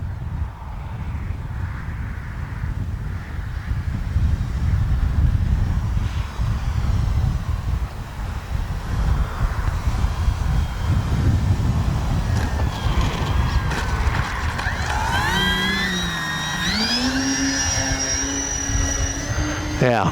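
An E-flite Beechcraft D-18 RC model plane takes off in gusty wind, heavy wind buffeting masking the engine hum until a rising, whining motor note climbs clearly over the last few seconds.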